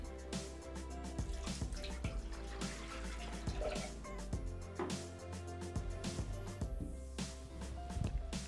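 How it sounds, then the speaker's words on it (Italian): Milk poured into the bowl of a Thermomix TM6 kitchen machine gives a soft, steady liquid trickle and splash, close but faint, partly masked by background music. "Versiamo all'interno del boccale il latte."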